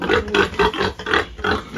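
A farm pig grunting close by in a steady series of short, rough snorts, about six grunts in under two seconds.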